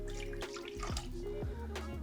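Water pours steadily into a cooking pot for rice, a continuous close splashing and gurgling stream with shifting tone as the pot fills.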